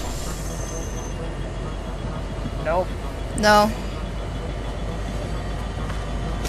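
A train moving in Fortnite produces a steady, low rumbling drone beneath short spoken remarks, with a few brief tonal chirps on top of the constant noise.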